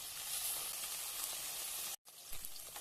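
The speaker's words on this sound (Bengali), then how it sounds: "মাছটাকে ভেজে নেব।" Small puti fish frying in hot oil in a pan, giving a steady, dense sizzle that runs loud and continuous, cuts out briefly near the end, then resumes.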